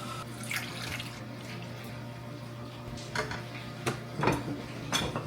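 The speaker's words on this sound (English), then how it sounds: "now we need 300 grams of water" Water is poured into a bowl of gluten-free sourdough starter in a home kitchen, a soft trickle with a few brief louder splashes and clinks over a steady background hum.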